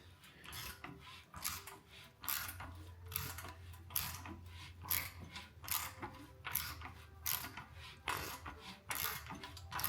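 An SR20 engine in an S13 drift car build is turned over by hand, producing a repeating rhythm of ratcheting, clicking mechanical strokes roughly every second over a low background hum, close by.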